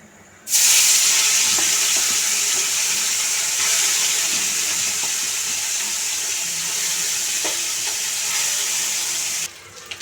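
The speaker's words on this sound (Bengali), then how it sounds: "আরেকবার মাছগুলোকে ভেজে নেব।" Small chunu fish frying in hot oil in a second batch, giving a loud, steady hiss and sizzle close up that runs for several seconds and then stops abruptly.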